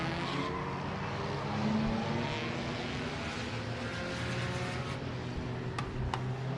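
Race cars roar around a small kidney-bean-shaped dirt track during a Scrappers feature, a steady dense engine drone with several cars close together and no break in the noise.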